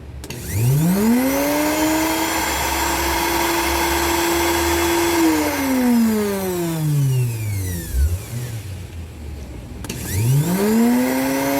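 A digital blender for making milk tea whirs up to a steady high whine, holds for several seconds, winds down to a stop, then spins up again, loud and close with no talking.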